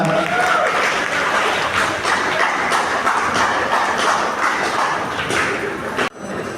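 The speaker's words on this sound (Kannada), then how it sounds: "ಜೋರಾದ ಚಪ್ಪಾಳೆಯೊಂದಿಗೆ ಪ್ರೋತ್ಸಾಹ." Audience applause at a college welcome event, a steady loud wash of clapping that fills the room throughout before dropping off abruptly near the end.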